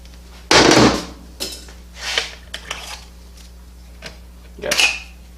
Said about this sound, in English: let's go ahead and remove our chains and our sprockets